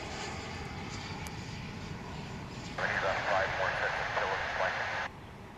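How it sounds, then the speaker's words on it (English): An Embraer 175 airliner arrives at DFW International Airport, its steady, broad engine roar running through the whole stretch while a voice talks over the middle part. "An Embraer 175, of course."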